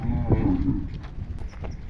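A bull at a bullock cart race gives a loud, drawn-out moo close to the microphone, with crowd murmur from the race ground around it.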